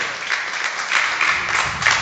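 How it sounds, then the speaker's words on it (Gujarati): Devotees at a temple satsang applaud their priest, a steady mass of hand claps across the whole moment, loud and fairly close. "એને એકવાર જોરદાર તાળીઓ નથી વધાવો ભાઈ"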